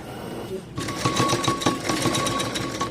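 A sewing machine runs a double stitch along a concealed side zip on a blouse, starting abruptly after a quiet moment and then chattering in a fast, rhythmic, close-up pulse.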